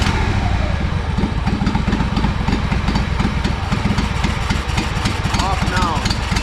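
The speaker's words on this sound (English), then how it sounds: "I'm going to show you again how it runs when I have the fuel on and when I have the fuel off" A Honda GXV 610 engine on a Honda 4118 riding mower, which spits and sputters, runs close by with a loud, steady, rapid idling chug throughout, and someone speaks over it.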